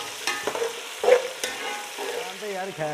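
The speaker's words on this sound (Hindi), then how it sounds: "तो अभी हमने यहाँ पे प्याज को ब्राउन करना है।" Onions browning in oil in a pot for tomato pulao, a steady sizzle under clinks and scrapes of a spoon stirring, close and fairly quiet.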